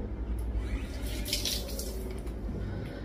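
Tap water runs steadily into a kitchen sink while fish is washed, a continuous close splashing stream with faint clinks, no voices.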